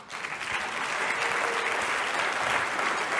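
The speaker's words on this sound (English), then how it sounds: "Another big round of applause for Candace Owens" A crowd breaks into steady, enthusiastic applause following a question-and-answer exchange at a live speaking event, many hands clapping evenly and close for the whole stretch.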